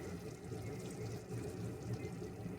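Ground coconut milk poured into a simmering kuzhambu curry, a faint, steady liquid pour and bubbling wash with no talk.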